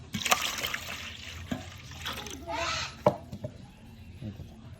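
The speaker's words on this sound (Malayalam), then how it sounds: "വെള്ളം ഒഴിച്ചു കൊടുക്കാം" Water is poured into a spiced fish marinade with pepper powder for Arabian fried fish, a soft close trickle and splash heard under talking.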